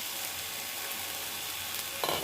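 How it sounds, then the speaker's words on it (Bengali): Cooked greens with added fried eggplant hiss in a pan in a steady, bright sizzle, ending with a short stir or scrape. "এবার এটাকে ভালো করে আর একটু হালকা ভেজে নেব।"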